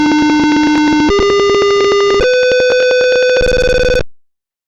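A buzzer in a heater temperature control system sounds a loud, steady electronic tone that steps upward in pitch four times over about four seconds, then cuts off abruptly into silence.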